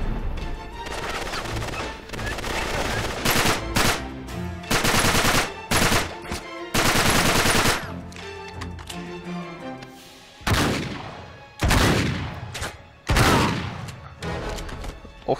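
Rapid bursts of automatic gunfire and single shots from the video game Uncharted 3, loud and dense with short pauses between volleys, alongside heavy impacts and booms.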